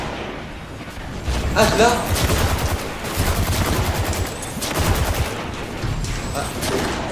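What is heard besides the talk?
gunfire in video game Destiny 2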